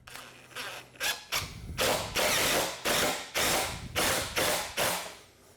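Screws are driven into a butcher block countertop to close a seam, heard as repeated short bursts of a drill or impact driver ratcheting and whirring, loud and close, with no talking.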